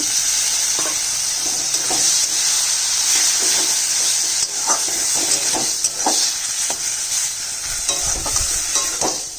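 Kashmiri chili powder being stir-fried in a pan with a splash of water, giving a loud, continuous hissing sizzle broken by repeated scraping stirs close by. No voices.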